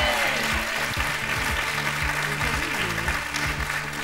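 Applause from a TV game show studio audience fills the whole stretch, steady and dense, with music and a faint voice underneath.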